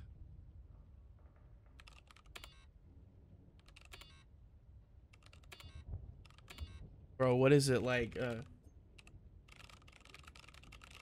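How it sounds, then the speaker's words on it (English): A character typing on a computer keyboard in the game Call of Duty Black Ops Cold War, faint scattered key clicks running throughout, briefly interrupted by someone speaking. "If you just hold down shift, he just starts typing."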